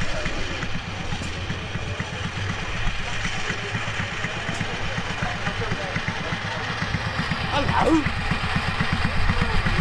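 A tractor engine idles steadily at an agricultural show, a constant low chugging throb under outdoor crowd noise, with a brief spoken greeting partway through.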